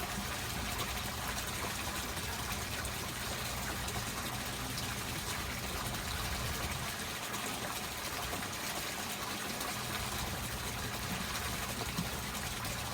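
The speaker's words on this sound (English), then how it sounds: "We're gonna pour the solution into each of the cups." pH calibration solution is poured into cups, giving a continuous, close, even splashing and gushing liquid sound throughout, with a brief softer patch midway and no voices.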